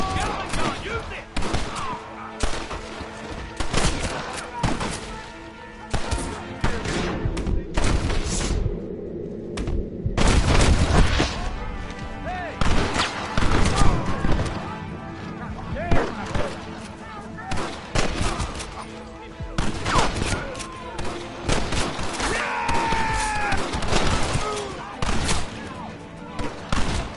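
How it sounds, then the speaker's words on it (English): Gatling gun fire in the Red Dead Redemption video game, long dense bursts of rapid shots that keep booming and rattling almost without pause, with battle noise and occasional shouted voices mixed in. "Gatling gun, use it!"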